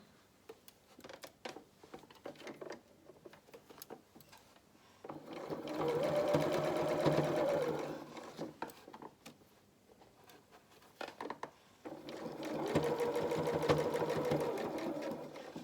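Sewing machine stitching fabric straps for children's shorts and dungarees, with two steady whirring runs of several seconds each, close by, separated by quieter handling of the fabric and a few soft knocks.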